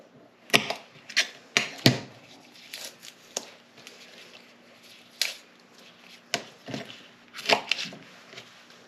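Knife chopping food on a board, a run of sharp, close taps in quick bursts with pauses between, with a faint steady hum underneath.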